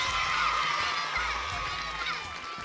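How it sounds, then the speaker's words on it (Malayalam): Audience at a school program clapping for a teacher, a bright continuous wash of applause from a crowd of children, steady and moderately loud with some shouting mixed in. "നല്ലൊരു കൈയടി കൊടുക്ക"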